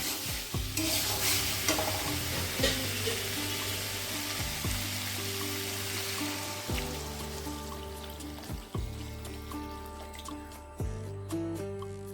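Water poured into a pan of potatoes frying in masala, heard as a loud sizzling hiss that gradually settles, with repeated ladle knocks and scraping stirs close by for a thin potato curry.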